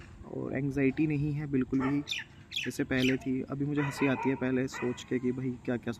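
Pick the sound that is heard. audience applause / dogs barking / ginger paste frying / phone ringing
dogs barking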